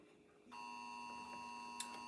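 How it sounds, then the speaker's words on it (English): A phone sounds an emergency alert, a sudden steady electronic tone with layered pitches that starts abruptly and holds on, faint and indoors in a kitchen. "Oh, that's my phone going off"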